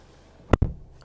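The rear door of a Mitsubishi Triton GSR pickup shuts in a single solid thud with a short latch click, heard close from inside the cabin in a quiet setting.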